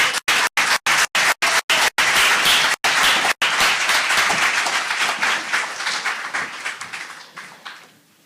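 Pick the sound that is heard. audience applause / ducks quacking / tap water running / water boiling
audience applause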